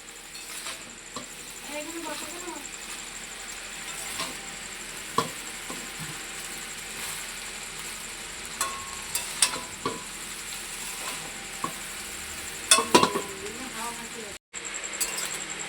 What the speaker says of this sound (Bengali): এবার দিয়ে দেবো আগে থেকে সেদ্ধ করে রাখা জল ঝরানো চাউমিনগুলো।